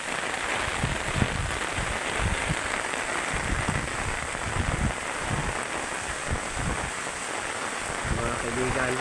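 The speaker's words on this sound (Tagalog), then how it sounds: "matindi ang buhos at bugso ng ulan, bunsod ng bagyong Christine" Heavy downpour and gusts from Typhoon Kristine in Masbate Province, an unbroken dense rain hiss drumming on surfaces for several seconds while someone speaks over it.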